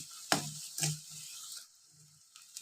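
Spice paste frying in a pan for an Assamese drumstick dish, with short bursts of sizzling and scraping stir strokes, close and moderately loud, settling into a quieter sizzle between strokes.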